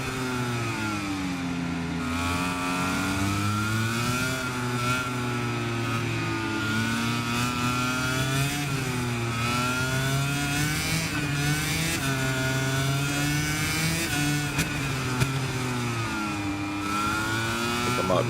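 A motorcycle engine in the racing game MotoGP 26 revs steadily in rising and falling sweeps through gear changes, loud and continuous throughout with no talk.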